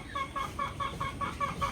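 A fighting cock of a game-farm bloodline gives a fast run of about eight evenly spaced clucks, fairly faint and close, over a quiet background.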